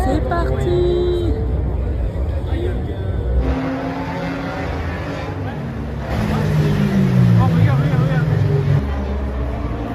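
Cars drive past at the Jap'n'Car festival, engines droning and revving under crowd noise, with a louder pass building toward the end and voices talking nearby.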